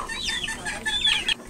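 Sick backyard chickens suffering from colds cluck softly in a short, close burst of several uneven calls with light background noise.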